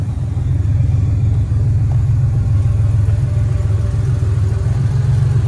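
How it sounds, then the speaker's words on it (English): A 1982 Porsche 911SC engine idling cold and a little low after months of storage, a loud, steady, close rumble that holds even throughout, with no voices. "I think the cold idle seems a little off. Like it idles too low."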